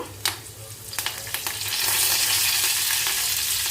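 Coriander seeds and curry leaves roasting in a hot pan: a few sharp crackles and stirring scrapes, then a steady, loud sizzle that fills the rest, with no talking.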